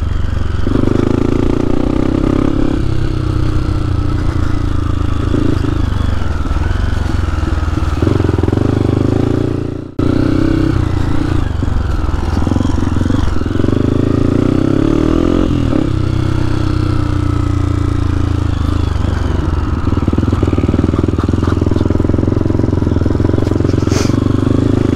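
Dirt motorcycle ridden along a heavy mud trail, its engine droning loud and close throughout with revving and clattering, one brief dropout partway through.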